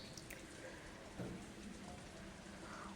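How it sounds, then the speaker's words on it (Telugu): Steady heavy rainfall with a dense, even hiss of drops on surfaces, heard alone and fairly faint, with no clear thunder. "చిరుచినుకులు మొదలై కొన్ని నిమిషాల్లోనే పెద్దవానగా మారింది"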